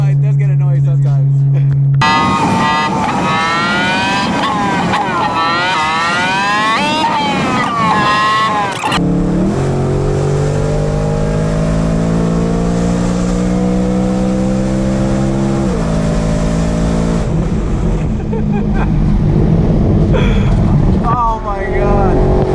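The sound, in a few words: BMW E92 M3 loud exhaust on canyon drive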